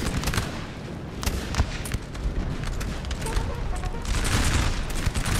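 Austrian musket volleys in a Napoleon: Total War multiplayer battle, dense crackling massed gunfire rolling continuously with scattered louder reports and heavier booms, building toward the end under faint battlefield noise.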